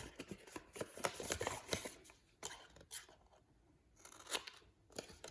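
Scissors cut card stock along a scored line while a Halloween box is being crafted, heard as close, crisp, repeated snipping with short pauses between cuts.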